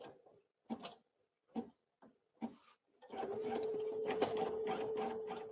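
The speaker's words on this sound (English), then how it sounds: "Let's press OK, and let's go ahead and start stitching." A Brothers NQ1700E embroidery machine first gives several short separate clicks and beeps, then starts stitching with a steady, fast mechanical whir and rattle that fills the rest of the clip.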